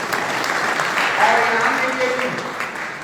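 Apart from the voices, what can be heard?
loud applause at convention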